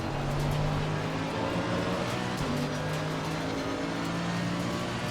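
A race car engine in the sim racing game Assetto Corsa Competizione, on the Nordschleife, roars steadily and loudly throughout, a dense sustained drone with slight pitch shifts as the motor holds high revs.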